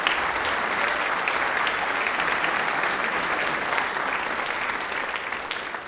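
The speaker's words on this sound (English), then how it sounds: "If not, just applaud them anyway." Loud, dense applause from an honor band concert audience for middle school directors, a continuous roar of clapping that holds steady and fades slightly at the end.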